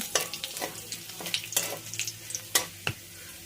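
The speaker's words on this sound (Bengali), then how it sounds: "রসুন আর কালো জিরে ভালো করে একটু ভেজে নেব" Chopped garlic and black cumin seeds fry in hot oil for a bean paste dish, a quiet steady sizzle broken by repeated scraping stirs and occasional sharp clinks of the spatula against the pan.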